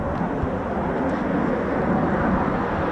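Eurofighter Typhoon FGR4 jet taking off at RAF Coningsby, a steady loud roar of engine noise holding throughout without talking.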